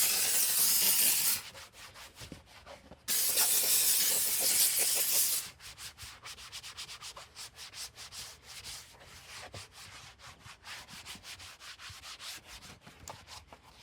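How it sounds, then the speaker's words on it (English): A sponge scrubs dirty plastic trim inside a car, with steady rubbing strokes up close. The scrubbing is loud in two bursts at the start, then settles into quieter, rhythmic scrubbing with no talking. "Now these plastics were pretty bad, so I'm scrubbing them pretty good."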